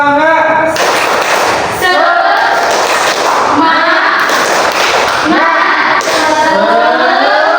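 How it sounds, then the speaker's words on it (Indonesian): A group performs a rhythmic spirit clap, tepuk semangat, at a training session, with loud patterned claps and thumps in repeating bursts, mixed with voices chanting along. "Tepuk semangat."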